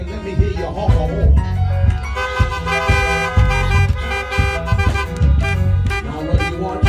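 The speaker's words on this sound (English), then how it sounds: "Everybody that's going to try to be here, let me hear your honk a horn." Car horns honk repeatedly and loudly, with many overlapping toots in irregular bursts from a gathering of vehicles during a Sunday event.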